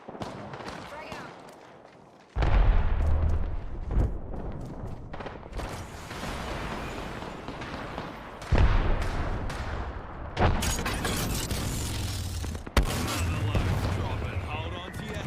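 A grenade blasts in a video game with a sudden heavy boom, followed by further deep booms and crackling gunfire. Game noise and spoken voice lines run throughout.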